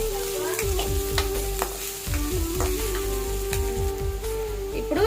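Onions and turmeric frying in oil for egg burji, a steady crackling sizzle with repeated scraping strokes of a spoon stirring in the pan, close and continuous.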